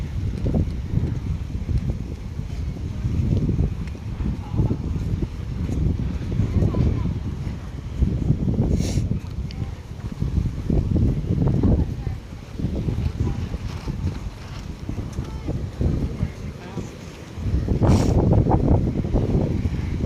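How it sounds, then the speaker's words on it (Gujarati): Strong seaside wind buffets the microphone in loud, uneven gusts throughout, with voices speaking intermittently beneath the roar, on a beach in Goa. "પવન બહુ ચાલે છે અહીંયા."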